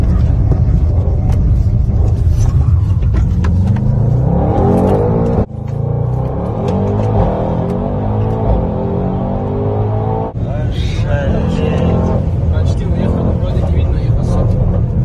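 A car travels at over 200 km/h on a road, its loud engine and wind roar rising and swelling steadily while people talk inside over it.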